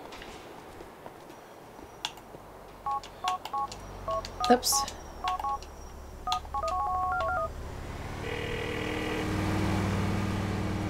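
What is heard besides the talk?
phone dialing in GTA IV video game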